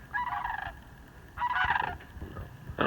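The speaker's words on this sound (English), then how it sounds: "those are trumpeter swans" Trumpeter swans calling, three loud honking blasts in quick succession, close and harsh, with a faint background rumble between them.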